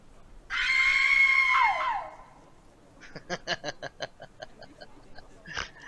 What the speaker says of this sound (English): A few moments later, another scream rises.